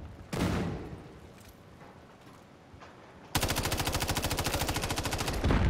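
Gunfire in Call of Duty: a single sharp shot early, a quiet lull, then a sustained rapid automatic burst rattling steadily to the end, loud and close.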